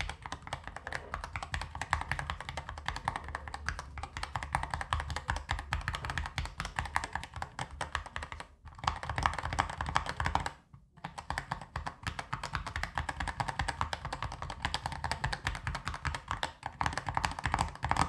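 Fast, steady typing on a mechanical keyboard fitted with custom keycaps, giving dense, close clacks and taps that run throughout with two brief pauses and no talk.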